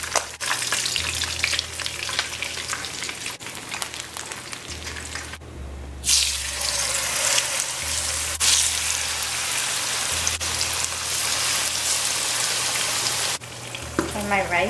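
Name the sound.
salmon pan frying, skin browning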